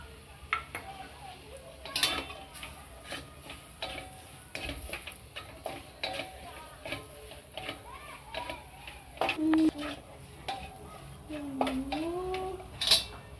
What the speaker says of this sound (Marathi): आता आपण दोन चमचे ह्या सारांमध्ये पण पीठ टाकून चांगलं परतून घेऊ